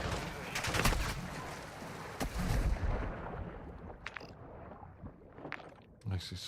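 Gunfire in the video game DMZ strikes the player: a close burst of sharp, heavy shots in the first few seconds, then scattered fainter cracks over a noisy battlefield background.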